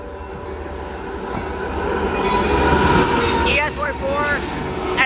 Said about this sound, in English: That's a limestone train.